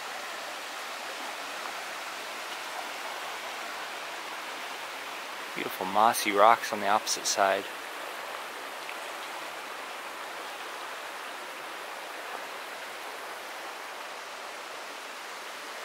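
Small crystal-clear creek flowing over mossy rocks, a soft steady wash of water heard at a distance throughout, with someone briefly talking midway.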